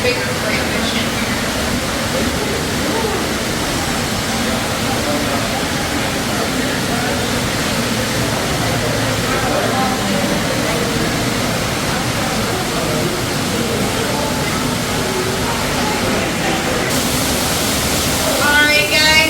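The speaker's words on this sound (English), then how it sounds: "I am standing over our 12-foot waterfall" A 12-foot waterfall inside a limestone cave on the Indiana–Kentucky border pours with a constant, dense rushing roar, close and loud throughout, with no talk.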